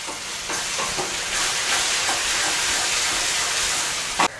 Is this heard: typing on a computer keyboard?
no